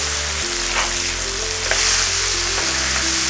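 Smash burger patties sizzle steadily on a hot flat-top griddle, with a brief scrape and a louder burst of frying as they are flipped; close, continuous, no talking.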